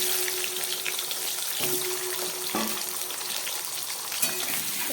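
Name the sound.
diced potatoes frying in oil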